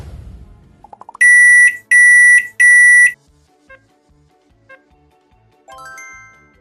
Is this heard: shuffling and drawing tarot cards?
no